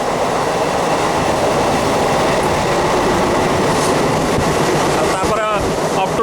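A MEMU passenger train runs past on the Khordha–Puri line toward Mahipur, with loud continuous rumbling and clattering wheels close by and a brief metallic squeal near the end.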